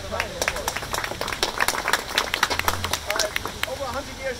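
Audience at an outdoor gathering of elected officials in Gravesend, Brooklyn, giving a round of applause: dense, irregular hand claps from a modest group, fairly close, with voices faintly underneath.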